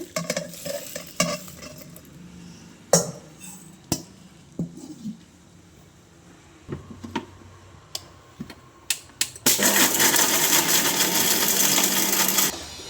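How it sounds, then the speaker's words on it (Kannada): Scattered clicks and taps, then a mixer grinder starts up dry-grinding spices with a loud, steady whirring roar that fills the last few seconds. "ಈಗ ಇದನ್ನ ಎಲ್ಲ ಮಿಕ್ಸಿಗೆ ಹಾಕಿ ರುಬ್ಕೊಳ್ಳೋಣ"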